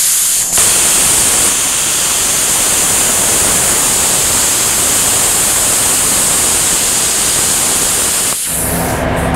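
A plasma cutter set to 25 amps slices through metal in a loud, steady hiss that runs unbroken for about eight seconds, starting and stopping abruptly.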